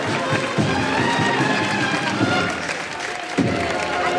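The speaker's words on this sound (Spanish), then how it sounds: "Con el aplauso de Granada." Crowd in the city centre of Granada applauds a Holy Tuesday procession of Jesús del Gran Poder carrying the cross on an ornate silverwork float. Clapping and crowd noise are continuous and fairly distant, with voices mixed in.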